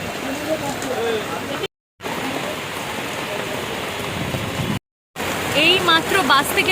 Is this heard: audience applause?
no